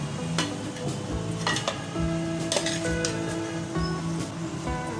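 Spaghetti noodles and chicken are tossed in a pan, with soft sizzling under repeated scraping and clinking of utensils against the pan, close and steady.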